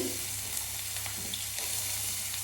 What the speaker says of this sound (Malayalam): ആദ്യം എണ്ണ ചൂടായിട്ട് നല്ല ഹൈ ഫ്ലെയിമിൽ വെക്കണം കേട്ടോ അതിലേക്ക് നമുക്ക് കുറച്ച് വെളുത്തുള്ളി കുനുകുനാ ചേർത്ത് കൊടുക്കാം